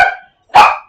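A dog gives two sharp barks close by, separated by a short silence, loud and clear with nothing else around them.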